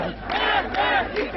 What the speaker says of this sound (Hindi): महिलाएं बगैर हिजाब के सड़कों पर उतरकर सरकार और पुलिस के खिलाफ नारेबाजी करने लगी